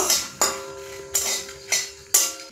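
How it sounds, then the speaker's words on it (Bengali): Dry red chillies being fried in a pan for a spiced raw mango pickle. A spoon scrapes and knocks against the pan in five distinct strokes at a moderate pace. The sound is close and there is no talk. "এই শুকনো লঙ্কাগুলো লাল করে ভেজে নিব।"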